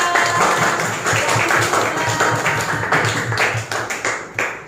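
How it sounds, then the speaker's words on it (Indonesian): An elementary school class claps for a classmate in an Indonesian classroom lesson, a loud, dense burst of many small hands clapping close by, continuing steadily for several seconds before tapering off. "Tepuk tangan untuk Mbak Yura."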